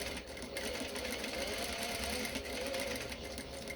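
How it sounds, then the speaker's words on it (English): A home sewing machine stitches a dart down fabric, giving a steady, faint mechanical whir with fine rhythmic ticking, heard continuously and alone. "So I'm going to sew down."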